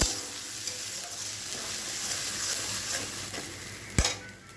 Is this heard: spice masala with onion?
yes